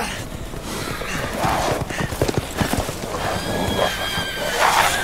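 A horse whinnies loudly and close in the video game Resident Evil Village, mixed with clip-clopping hooves and other game sounds over a few seconds.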